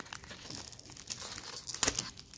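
A Pokemon Brilliant Stars booster pack is torn open, giving quiet, close crinkles of foil wrapper and short tearing rustles that end in a sharper crackle.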